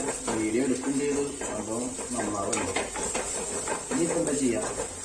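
A pan clatters with stirring and scraping as onions or similar ingredients are sautéed for a Kerala mackerel fish curry, under near-continuous talk in the foreground.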